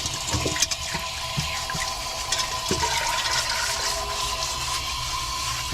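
Running water splashes over a rusty old cast iron pan being washed, a steady close rush of water with occasional knocks and clatter, no talking.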